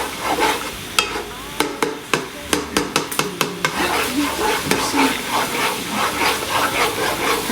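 Butter with added canola oil browning in a pan: a steady sizzling hiss with sharp clicks and taps of a utensil stirring against the pan, close and fairly loud.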